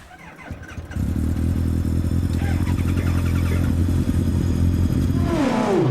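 A powerful twin-engine Tiger Z100 sports car roars up from idle into a sustained, loud, deep rev as it accelerates hard, steady and close throughout.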